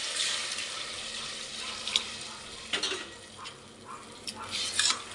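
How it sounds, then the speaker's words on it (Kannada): Water splashing and sloshing into a metal pot of rice for chicken biryani, with intermittent clinks and bursts of pouring over a soft background hiss. "ಇವಾಗ ಇದಕ್ಕೆ ನಾನು 1 ಪಾವ್ ಅಕ್ಕಿಗೆ 1 ಚೊಂಬು ನೀರು ಹಾಕ್ಕೊತಾ ಇದ್ದೀನಿ"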